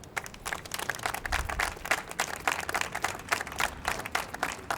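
A crowd claps at a Philadelphia City Controller press conference on gun violence, a steady round of applause that runs the whole time without talk.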